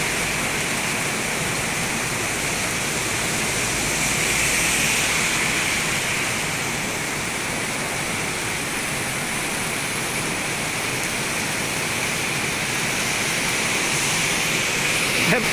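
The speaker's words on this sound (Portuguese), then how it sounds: "Muita chuva em Blumenau neste momento" Heavy night rain pours down in Blumenau, Santa Catarina, as a loud, steady, dense wash of falling water that never lets up.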